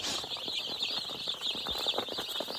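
A large brood of two-week-old chicks in a brooder on pasture keeps up a constant high chorus of cheeping and peeping, with soft clucks and rustling beneath, fairly close and unbroken.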